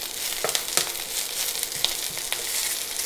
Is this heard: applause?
no